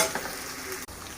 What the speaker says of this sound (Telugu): అల్లం వెల్లిగడ్డ పేస్ట్ వేసినాక కొంచెం వేగనివ్వాలి